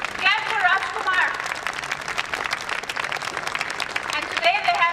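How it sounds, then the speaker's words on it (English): An audience at a pledge event in Delhi applauds in a dense, continuous patter, mixed with voices and scattered cheering over the whole stretch. "Clap for Rajkumar."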